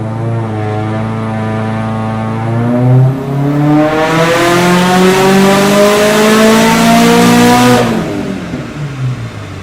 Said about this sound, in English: This car's loud. It's got a very unique exhaust note.